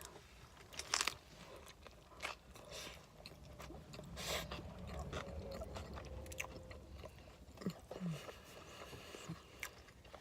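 Crunchy bites and chewing of a vegan sandwich with spicy mustard, dairy-free cheese, lettuce, tomato, cucumber and pickles, eaten outdoors at a roadside lunch stop in western Kansas, close and intermittent over a steady outdoor background.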